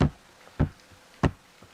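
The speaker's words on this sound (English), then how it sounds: "Cato Kalin heard the 3 thumps on his wall at 10:51 or 10:52." Three knocking thumps on a wall, evenly spaced and fairly close, each a short dull hit followed by quiet.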